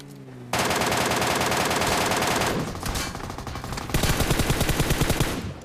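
Gunfire in a battle royale video game: loud, dense automatic bursts start abruptly and continue almost unbroken in a rapid rattling rhythm, briefly easing before another heavy volley, with no voices.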